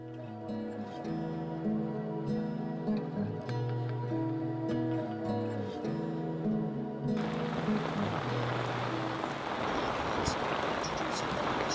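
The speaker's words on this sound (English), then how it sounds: "It's raining again, so we're stuck in a bivvy." Heavy rain drums on a fishing bivvy during a carp fishing trip at Cherry Lake. A dense, hissing patter takes over after a tuneful passage and continues loud and steady to the end.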